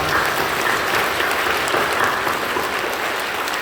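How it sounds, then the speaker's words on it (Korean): A large church congregation at an Easter service applauds steadily, a dense, even wash of clapping that holds at a constant level throughout. "우리 서로 격려하며 박수해 주십시오"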